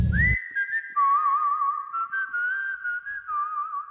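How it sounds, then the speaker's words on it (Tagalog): A long, sustained whistled tone, thin and wavering as it slides between two pitches, heard close and alone after a brief thump at the start. "Nakakarinig ako ng mahina at malamig na sipol mula sa aking likuran."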